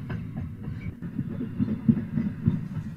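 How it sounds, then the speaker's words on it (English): A steam-era passenger train rolls along the rails in a radio drama, a steady low rumble with faint rhythmic clickety-clack, moderately quiet and continuous with no voices. "the train finally pulled in at Stony Cross"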